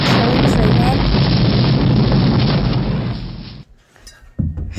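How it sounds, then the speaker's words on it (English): A huge, roaring explosion in a video game blasts loud and sustained for several seconds, then cuts off abruptly into quieter rumbling and a final thump. "A giant explosion happens and it's killing Train Man."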